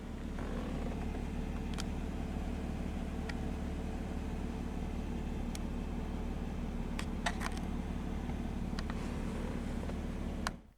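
A 1997 Mercedes-Benz SL 320 engine idles steadily and close by, a constant low rumble with a few faint mechanical clicks on top, then cuts off abruptly near the end.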